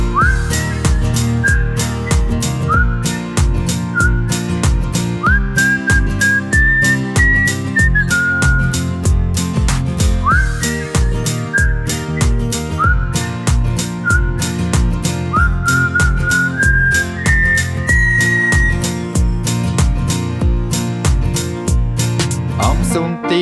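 A melodic whistled tune runs steadily over a bouncy backing track with a repeated beat, sounding close and loud for the whole stretch without speech.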